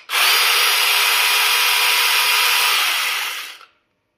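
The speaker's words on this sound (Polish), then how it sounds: "Bateria podpięta, tu jest zabezpieczenie uruchomienia, no i pierwsze odpalenie." A cordless battery-powered mini chainsaw with a brushless motor, mounted on a pole, is switched on for the first time: a loud, steady, high whine that starts abruptly, runs unbroken for about three seconds, then winds down to silence.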